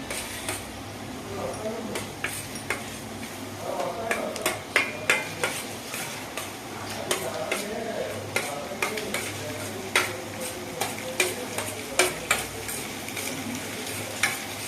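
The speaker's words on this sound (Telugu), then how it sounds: "పక్క గుడ్లు ఫ్రై అవుతుంది కొంచెం ఫ్రై అవ్వాలి" Eggs sizzling in a pan for egg fried rice, under a continuous frying hiss with repeated sharp clicks and taps of a utensil against the pan, and a voice talking intermittently.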